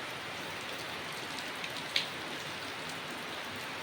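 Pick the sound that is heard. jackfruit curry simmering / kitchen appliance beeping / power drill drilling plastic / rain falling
rain falling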